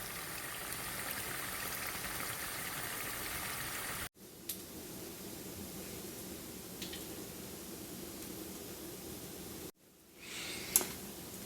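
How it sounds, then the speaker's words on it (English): Grease being drained from a pan of cooked ground hamburger meat for a taco bake: a steady close pouring, trickling hiss running throughout, broken by two short cuts, with a brief scrape near the end. "while I drain the grease"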